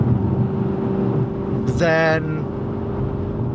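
An Aston Martin V8 Vantage with a primary cat delete drones under load, then eases off the throttle, with a brief burbling crackle rising over the steady exhaust rumble; a voice speaks over it.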